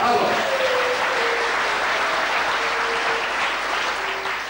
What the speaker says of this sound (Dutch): Ik wil een groot applaus voor de 9 deelnemers.